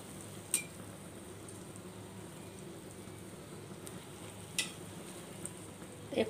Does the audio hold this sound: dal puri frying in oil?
yes